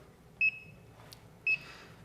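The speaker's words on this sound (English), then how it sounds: "we're going to tare the scale as well as set the timer mode" A digital coffee scale gives two short, sharp electronic beeps about a second apart, clear and close in a quiet kitchen, as it is tared and set to timer mode.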